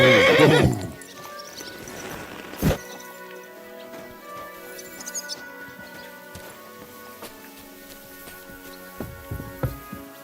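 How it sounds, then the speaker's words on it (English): A horse in Kingdom Come: Deliverance II gives a loud, close neigh at the start, followed by a sharp thud and scattered faint hoof sounds over a quiet musical background. "Easy, good horse."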